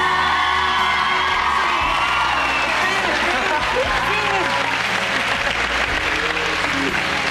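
A television studio audience screams, cheers and applauds loudly and continuously, a dense crowd roar with whoops rising over it.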